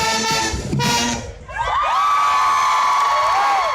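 A stadium crowd screams and cheers for dancers, loud high-pitched shrieks and whoops swelling in bursts, dipping briefly, then holding in a sustained roar.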